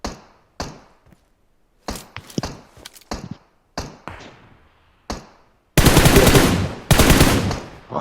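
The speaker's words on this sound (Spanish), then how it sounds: "¿Hay quién anda disparando al rifle?" Rifle fire in a PUBG match on the Livik map: a string of sharp single shots with short gaps, then two long, loud automatic bursts, all close and dominant.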